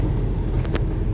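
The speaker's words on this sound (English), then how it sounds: "There's a lot of traffic ahead." Road traffic rumbles on a street in Halifax, England, a steady low engine drone heard from inside a moving vehicle, with a brief faint hiss partway through and no talk.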